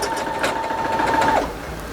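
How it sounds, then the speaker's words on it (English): A sewing machine stitches fabric at close range, a steady mechanical whir with rapid needle ticking that runs for about a second and a half and then stops. "then we are just going to start sewing."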